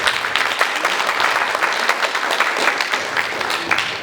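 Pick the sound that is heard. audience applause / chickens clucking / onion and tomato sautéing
audience applause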